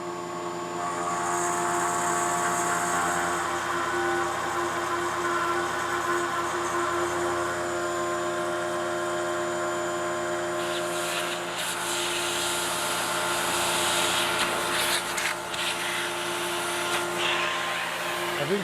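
A machining tool spins at 4,200 RPM and takes a shallower, faster cut, giving a loud, steady close whine with sustained tones and bursts of cutting noise in the second half, with no speech.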